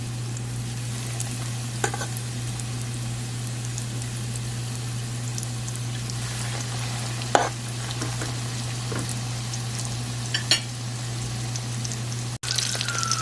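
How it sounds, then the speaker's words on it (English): Breaded steak fries in a pan with a steady, even sizzle that carries through the whole stretch, broken by a few faint clinks and light taps near the end. "my steak has been cooking for 5 minutes on one side"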